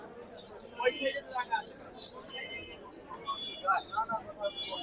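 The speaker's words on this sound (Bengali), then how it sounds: "এক পেয়ার ওমান 128 এর বেবি কবুতর দেখাচ্ছি" Soft pigeon coos and a few chirps among a busy mix of chatter and bird calls at a large pigeon market in Khulna, moderately near.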